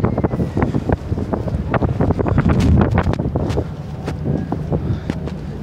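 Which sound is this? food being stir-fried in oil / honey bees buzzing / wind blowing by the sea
wind blowing by the sea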